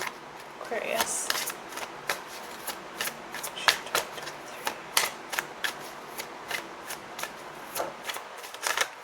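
Tarot cards from a Vision Quest deck being shuffled by hand, a steady stream of close, crisp flicking and riffling snaps continuing for several seconds, soft and unaccompanied by speech.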